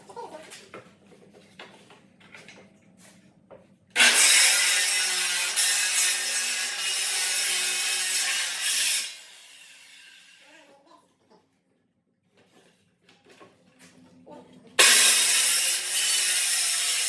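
A hand saw rasps steadily through a wood pallet in a long loud stretch, then quiet shuffling and knocks, before sawing starts again.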